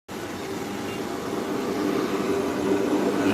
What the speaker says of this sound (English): small jet coming behind it taxiing down, so we'll have 2 takeoffs